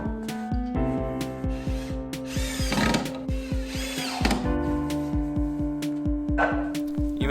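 A power drill drives screws to attach 3D-printed feet to wood planks for a standing desk, whirring steadily up close with a regular pulsing chatter and a few brief louder bursts as the screws bite.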